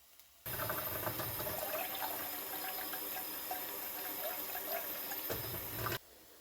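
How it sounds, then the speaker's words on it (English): Water pours into a pot of chili cooking on the stove, a steady running trickle and splash that starts abruptly, holds for several seconds and stops, close and fairly quiet with no talking. "I'm gonna have to add a little bit of water."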